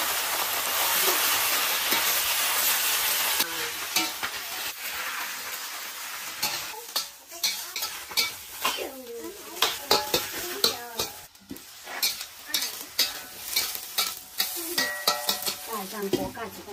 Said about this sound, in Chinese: 不会，我待会炒一下青菜。